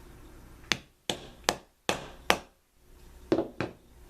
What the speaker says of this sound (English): I can just take my setter and hammer this down.